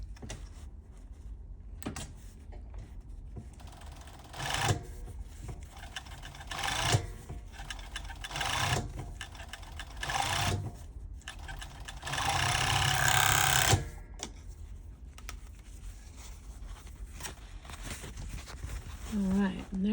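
An overlocker runs in short bursts as it stitches an open fabric seam, its loudest stretch a steady whir of several seconds, with a person talking quietly between runs.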